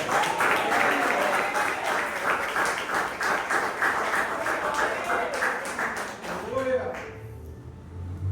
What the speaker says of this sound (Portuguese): abra sua boca, aplauda ao Senhor e dá glória a Deus